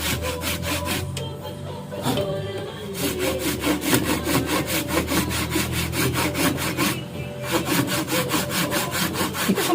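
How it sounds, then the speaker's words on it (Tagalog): Close, loud back-and-forth rasping of a hand saw working through the tough shell of a calabash fruit, with a short break early on, then a steady fast stroke rhythm and another brief pause before continuing. "Kaya lagari."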